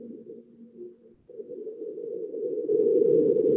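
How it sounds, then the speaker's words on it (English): Marsquake recorded by the InSight lander's seismometer on Mars, heard as a low rumbling drone that swells steadily louder, following faint Martian wind noise. "that slightly more intense noise is what they think was a Marsquake."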